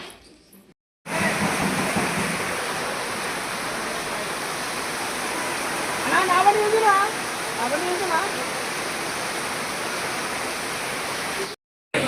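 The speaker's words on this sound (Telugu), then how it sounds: "అక్కడైతే వర్షం పడుతుంది" Heavy rain falls steadily at an outdoor flower market, a dense, continuous wash of noise throughout, with a voice speaking briefly over it partway through.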